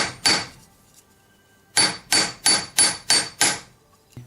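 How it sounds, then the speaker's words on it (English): A hammer strikes a metal ring on a mandrel to thicken it while a solitaire crossover ring is being made. Two isolated blows are followed by a quick run of five ringing, evenly spaced strikes, close and loud with no talk. "hammer it back to the same thickness, and then you can tap the sides again"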